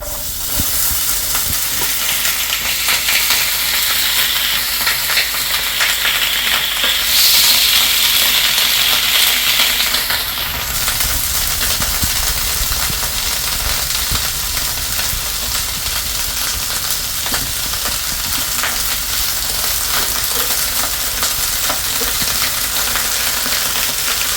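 Corn kernels, about three bowls, sizzle in a hot pan with a pinch of asafoetida, a steady close hiss of frying that swells briefly early on, then settles into an even crackle with no talking.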